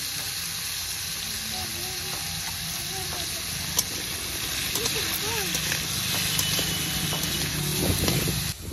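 Kohlrabi and potatoes with salt, turmeric and slit green chillies fry in a pan, giving a constant crackling sizzle with occasional stirring scrapes, while a voice talks over it.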